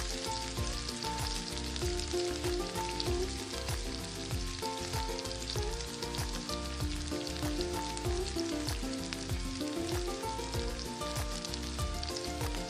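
Chicken sizzles loudly in a pot with dried plums and chopped green chillies for wedding-style degi chicken, a dense, steady crackle of frying throughout with no pauses.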